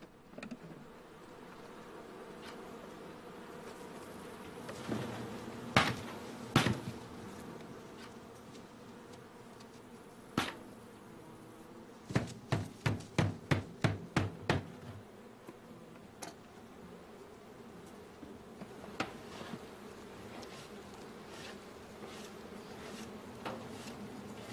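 Honeybees buzz around an apiary, a faint, steady hum broken by a series of sharp close clicks and taps, including a rapid run of about eight in quick succession midway through.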